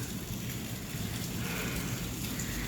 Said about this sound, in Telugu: ఈరోజు ప్రొద్దుటూరులో చాలా రోజుల తర్వాత పెద్దగా గాలి ఉరుములు మెరుపులతో కూడిన వర్షం అండి